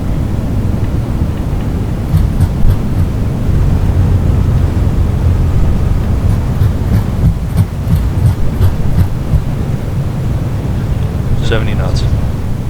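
Reverse thrust roars from an Airbus A320neo landing in Microsoft Flight Simulator, a loud, sustained low engine rumble with brief higher callout sounds over it.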